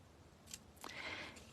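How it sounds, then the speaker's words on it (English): Quilting snips close once on fabric at a quilt block corner, a single quiet crisp snip with a short rasp in an otherwise quiet room. "Now take your snips and cut out your 4 corners."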